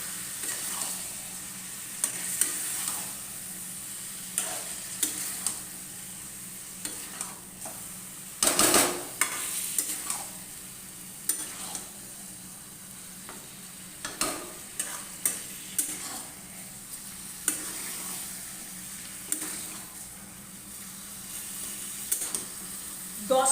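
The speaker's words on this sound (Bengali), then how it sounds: "এবার আস্তে দিয়ে সুন্দর করে মিডিয়াম ফ্লেমে রেখে মাংসটাকে কষিয়ে নেব" Mutton for a potato mutton curry sizzles in a pot over a medium flame, with a continuous low hiss and frequent spatula scrapes and clinks as it is stirred and turned. Nobody speaks.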